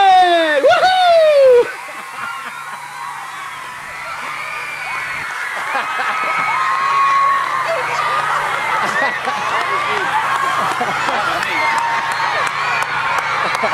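Crowd at a school geyser event cheers and whoops after an eruption, a sustained mass of voices following a loud shout, continuing for many seconds.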